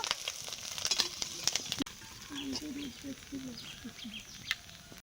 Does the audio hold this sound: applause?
no